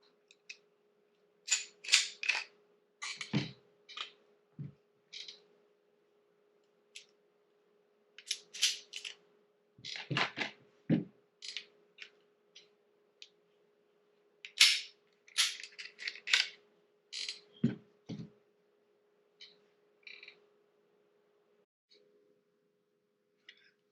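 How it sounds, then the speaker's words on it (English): Metal clicks and clacks ring out in scattered bursts as slides are pulled from the frames of three pistols during disassembly for a DPM recoil reduction system install, each sharp snap close and distinct against near silence. "the next step for the install is to remove the slide from the frame"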